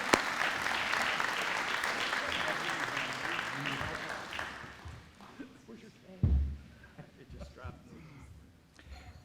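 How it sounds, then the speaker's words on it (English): Audience applause at a Kutztown University President's Medal awards ceremony, a loud burst of clapping for several seconds that fades out midway, followed by quieter room noise and scattered thumps. "let's give him a round of applause"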